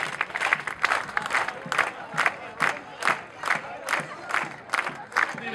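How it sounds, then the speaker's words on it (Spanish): A crowd at an anniversary parade in Villa María claps in steady rhythmic unison, about two claps per second, with cheering and shouting mixed into the sustained noise. "Y aplausos y palmas."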